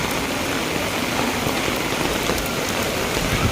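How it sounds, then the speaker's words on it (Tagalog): Heavy rain pours steadily outside a boarding house, a dense, loud, unbroken hiss of drops drumming on surfaces with no voices heard. "Sobrang lakas ng ulan."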